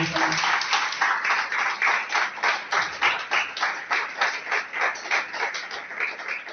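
A church congregation claps for several seconds in a fairly fast, steady rhythm, the sound bright and close and fading a little toward the end.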